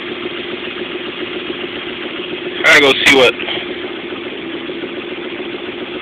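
A Toyota MR2 with a 1ZZ engine on coil-on-plug EFI idles steadily and close by, a smooth even hum, interrupted near the middle by a brief burst of someone talking.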